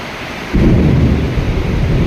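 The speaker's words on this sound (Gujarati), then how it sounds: "કેટલું ગાજણ થાય છે જુઓ તમે." Loud rumbling thunder during a heavy rainstorm starts abruptly after a brief quieter moment and rolls on steadily, with rain noise underneath.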